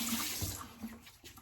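Hot water runs from a bathroom tap into a sink during a wet shave, a faint steady splashing stream, brief and quiet with no voices.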